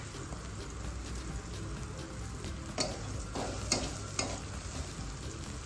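Chopped onions sautéing in a pan, a soft continuous sizzle with a few stirring scrapes, fairly quiet and close, no speech.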